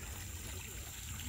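A creek flows steadily in the open air, a constant soft rushing and trickling wash with faint murmured background sound and no clear speech.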